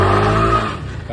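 A New Cuxi 115 scooter pulling away with a faulty drivetrain belt gives a loud, sustained tonal squeal over engine noise, fading slightly after about half a second.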